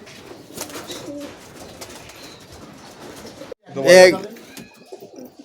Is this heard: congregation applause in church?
no